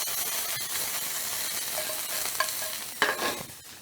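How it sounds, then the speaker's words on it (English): Garlic and rapini sizzle loudly in a hot oiled pan where water hits the oil, a steady close hiss with occasional stirring scrapes and no voices. "the water and the oil don't mix. You get a lot of sizzle"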